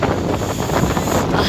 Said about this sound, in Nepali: कति शीतल हावा छ